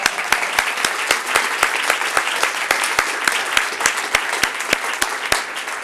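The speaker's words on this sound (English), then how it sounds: "I think we give him a round of applause on that one." Audience applause for a former New York City mayor: steady, loud clapping from a crowd, with sharp regular claps close by punctuating the dense background applause.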